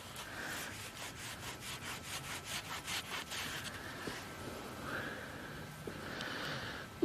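A metal-detecting find being rubbed clean by hand, giving a steady series of rhythmic scrubbing strokes, close and fairly quiet, with no talking.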